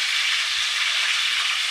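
Green chillies frying in a pan, a steady, close, even sizzle with no pauses.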